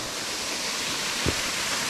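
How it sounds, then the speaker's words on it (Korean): Oasis Waterfall, a modest falls in a New Zealand forest, gives a steady, full rushing roar from nearby with one brief soft thud in the middle. "이제 여기가 숲속에 있는 오아시스 워터폴"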